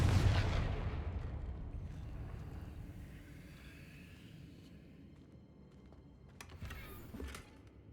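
The Confringo fire spell is cast in Hogwarts Legacy, opening with a loud, booming burst that decays into a long rumbling tail, followed by faint clicks and a smaller crackling flare near the end.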